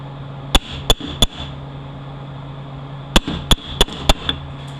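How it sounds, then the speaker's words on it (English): Sharp metallic whacks strike a stuck part to knock it loose, three quick blows followed after a pause by a faster burst of four or five, ringing over a steady low hum. "See if we can give it a couple whacks."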